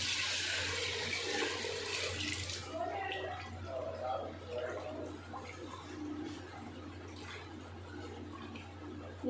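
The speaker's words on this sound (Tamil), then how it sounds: "இப்போ வந்து புளியை வந்து நான் எடுத்து கரைச்சி வச்சுருக்கிறேன்." Tamarind water pours with a gushing splash into a simmering mackerel fish curry for about three seconds, then gives way to quieter bubbling while someone talks.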